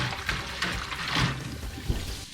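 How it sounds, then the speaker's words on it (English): Water sloshes and drains as pike pieces are dumped into a bowl for rinsing, a continuous close splashing gush with a few heavier splashes. "I'm gonna dump the pike into this. All the water is going to get out."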